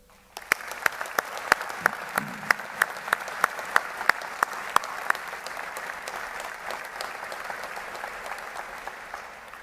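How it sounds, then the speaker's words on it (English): An audience applauds at a Navy graduation ceremony honoring veterans and midshipmen: sharp, regular claps start abruptly, quickly settle into a sustained steady patter and slowly thin toward the end, with faint background voices. "Please join me in a round of applause for our veterans, service members, and NROTC midshipmen,"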